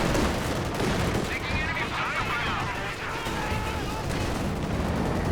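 Heavy gunfire from an aircraft strafing run pounds a battlefield in the strategy game Company of Heroes 2, a loud, continuous roar of shots and blasts with warbling effects, while a voice talks over it.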